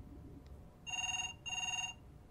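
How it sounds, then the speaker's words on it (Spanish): A telephone rings in the game Beyond Two Souls, two clear electronic ring bursts of about a second each separated by a short gap, loud over a quiet background. "¿Teléfono?"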